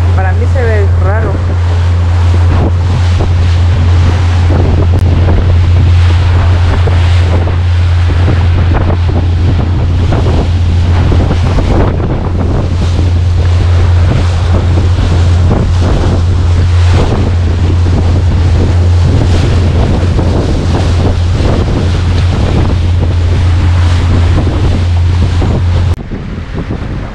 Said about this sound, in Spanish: Miren las olas que hay, y dicen que es por el viento.